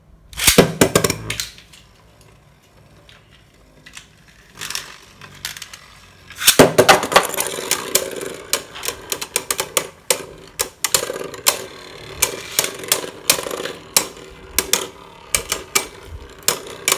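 Beyblade Burst tops, Revive Phoenix against Drain Fafnir, launch and clash in a plastic stadium, giving a quick ratcheting rip followed by dense rapid clacking and scraping hits that continue loudly and close.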